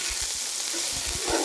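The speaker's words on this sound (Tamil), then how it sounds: "சூடாக வச்சு கடுகு கலப்பு போட்டுக்கிறோம்." Mustard seed mix sizzling and popping in hot oil for a Kerala-style squid thoran, a steady bright frying hiss with scattered low crackles and pops, close and continuous with no talk.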